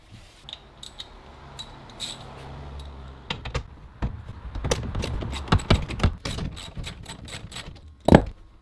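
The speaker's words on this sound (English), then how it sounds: "That looks like there are just 2 bolts. So remove those." Two bolts are removed from a seat cover in a Nissan Patrol Y62. Close metallic clicks and ratcheting come in quick irregular bursts and build toward a sharper clack at the end.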